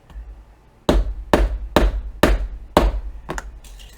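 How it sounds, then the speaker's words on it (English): Five or six solid hammer blows knock a fastener into place at an even pace, each a sharp knock, followed by a couple of lighter taps. "To do that, we need a hammer."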